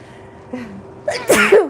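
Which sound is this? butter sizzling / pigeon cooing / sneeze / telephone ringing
sneeze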